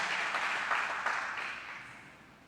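A church congregation applauds after a sermon prayer, steady broadband clapping from many hands that fills the room and slowly fades over a couple of seconds.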